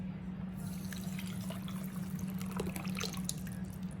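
Broth is poured steadily from a container into a pot of rice, making a continuous close liquid stream with splashy gurgles and no talk.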